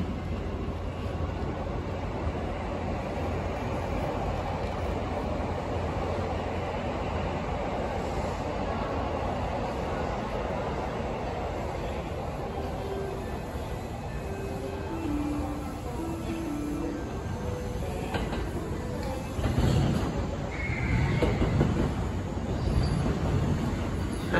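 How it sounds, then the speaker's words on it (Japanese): A JR East E259 series express passing through Shinagawa station, a long steady rumble and roar of the train on the tracks, with a brief tone partway through and a louder surge near the end. "The train will soon be passing through track number 15."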